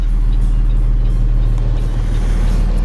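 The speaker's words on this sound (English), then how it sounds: "Jake brake" A Peterbilt truck's Jake brake rumbles as steady, loud, low engine braking, a continuous close drone with no talking.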